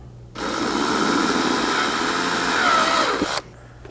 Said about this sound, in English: Now, once you hit all those with the drill,